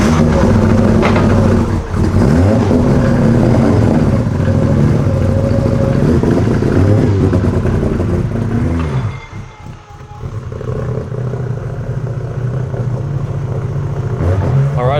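A tuned turbocharged car's engine drones loudly on a dyno on a freezing night, holding a strong sustained roar with a harmonic rise, then dipping briefly before settling back to a lower steady tone.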